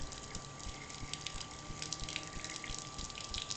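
Water runs steadily from a Coleman Hot Water On Demand portable heater with its pump primed, a continuous close hiss and gush with no talk over it.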